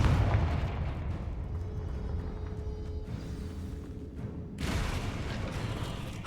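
A Confringo blasting spell detonates in Hogwarts Legacy, a deep rumbling boom with a sustained low roar, followed by a second broad burst of noise near the end.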